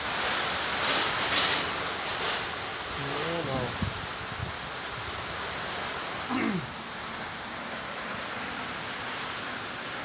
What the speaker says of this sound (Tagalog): Lakas ng ulan, lakas ng hangin.